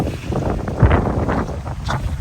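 Steady wind blusters by the sea near a hotel lobby, a broad rushing roar with a few louder gusts, heard alone with no talking.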